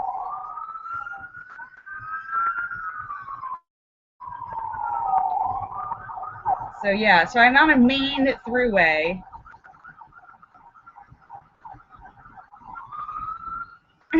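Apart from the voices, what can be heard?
emergency vehicle sirens near freeway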